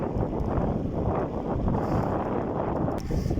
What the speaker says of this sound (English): It's a nice day, breezy, not warm, good to get out there.